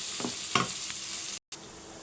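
Sliced onions sizzling steadily in hot oil for a curry with prawns and pointed gourd, with a couple of soft stirring scrapes and a brief dropout in the middle.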